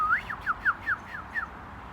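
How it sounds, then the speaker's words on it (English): Recorded bird chirping played for hospital patients: a handful of short, bright, quick chirps in an irregular rhythm, fairly faint and close, with no talking. "for them to hear some bird chirping"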